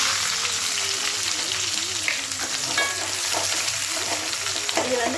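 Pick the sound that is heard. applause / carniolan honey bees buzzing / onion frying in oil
onion frying in oil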